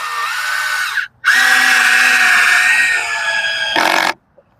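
A power drill drives screws into a wooden fence for a vegetable garden enclosure, loud and close, whining in three bursts: a short run, a brief pause, a long sustained spin, then a final quick burst.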